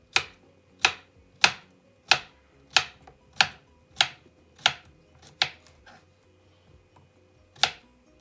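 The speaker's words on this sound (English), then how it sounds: "I'm going to start by cutting off the stem end and then peeling and slicing" Ten sharp knife chops slicing peeled mini cucumbers on a cutting board, evenly spaced at about one per second, close and crisp with quiet gaps between strikes.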